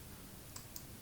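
Two soft, crisp computer mouse clicks sound close together in a quiet room while someone works in a Java code editor.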